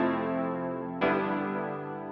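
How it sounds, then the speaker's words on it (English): Low-resolution digital piano from Logic's Alchemy plays a sustained chord, then a second chord strikes at about one second and slowly decays, alone with no voices. "Then there's a low res piano from Alchemy."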